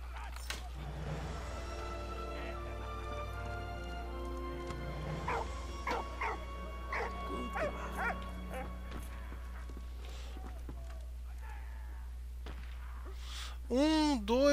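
A dog barks and yips in the World War I video game Valiant Hearts: The Great War, in several short bursts over a game soundtrack, with a talking voice over parts of it.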